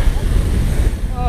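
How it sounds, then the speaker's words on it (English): Wind roars across the microphone of a mountain biker riding a wooden boardwalk, a loud, continuous gusty rush with low rumble. "Oh, a little windy."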